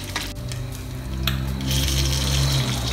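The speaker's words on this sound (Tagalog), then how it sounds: "Kulong-kulo na po yung ating paggas, yung tubig." Water boiling hard in a pot, continuous turbulent bubbling and rushing, a dense steady churn at close range with no voices.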